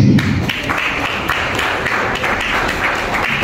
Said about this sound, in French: Sous nos applaudissements toujours.